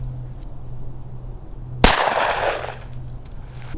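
One sharp, loud 9 mm FMJ 115-grain round from a SIG P365 pistol with a 3-inch barrel fired at a homemade armor plate, a single crack that rings out and then decays, with a low hum beneath.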